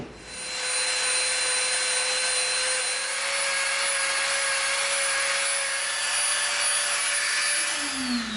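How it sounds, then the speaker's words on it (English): A Dremel rotary tool grinds a bevelled edge into EVA foam for a prop Klingon knife blade, giving a steady high motor whine that holds evenly for several seconds with a slight pitch change near the end. "We're going to Dremel off an edge all the way around"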